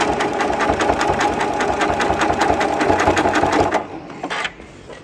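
A sewing machine sews quilt binding with a triple zigzag stitch, a fast, even rhythmic chatter running close and loud for nearly four seconds before slowing and halting.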